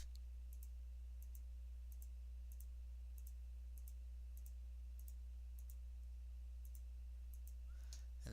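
A computer mouse clicks in short regular pairs while colors are filled into a drawing in the Paintbrush program. The clicks are faint and evenly spaced over a low electrical hum, with no voices.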